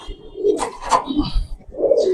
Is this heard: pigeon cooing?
yes